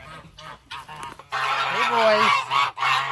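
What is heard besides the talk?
geese honking in the yard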